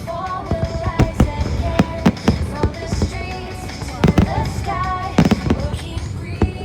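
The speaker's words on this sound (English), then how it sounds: "the first spectacular burst of fireworks lit up the sky" National Day preview fireworks burst over Kallang Basin in Singapore: a dense run of loud, sharp bangs and crackles in irregular rapid succession, booming across the open water.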